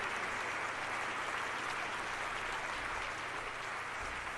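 Dense, continuous roar of a crowd cheering and applauding in a weightlifting video game, loud and unbroken throughout with no voices standing out.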